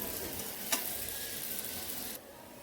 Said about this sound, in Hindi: तो हम फिर से कलर देंगे, इसे हमें क्रिस्पी फ्राई करना है।